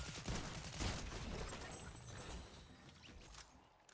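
Gunfire in a ranked video game match: a burst of sharp, distant shots early on that fades into quieter rattling and clatter, faint overall.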